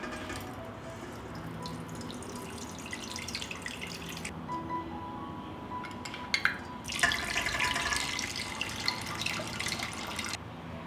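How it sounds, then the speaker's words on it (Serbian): Water poured from glass jars into a cooking pot in a home kitchen, a faint steady trickle that swells into louder splashing pours near the end, with no talking. "vodu iz tegle presipam u šerpu"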